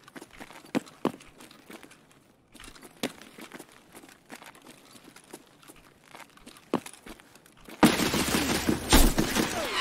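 Gunfire in the video game Escape From Tarkov: scattered sharp shots crack over a low game backdrop, ending in a loud, dense burst of rapid fire during the final two seconds.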